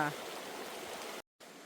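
A stream flows with a steady broadband rush of water, briefly cut to silence before the flowing resumes.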